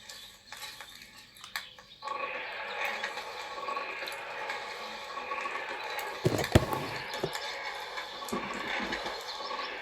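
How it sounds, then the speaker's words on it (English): A lever working the forge bellows in Kingdom Come Deliverance 2 gives a mechanical creak and clatter, followed by a steady whooshing rush of air with a sharp knock midway. "There's a lever above you. Give it a pull. It works the bellows."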